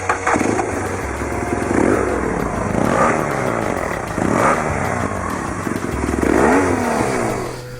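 A BMW R1200GS motorcycle engine, the 2010 model with a more powerful motor and aggressive exhaust, starts and runs up close, with loud sustained throb and several rising revs through the clip.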